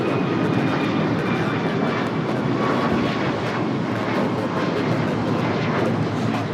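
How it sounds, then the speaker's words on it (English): A United Airlines Boeing 737 MAX 9 in Raiders livery takes off from LAX, a loud, continuous jet roar at steady full power throughout, with no talk. "2443 taking off to Cleveland, Ohio on the MAX 9"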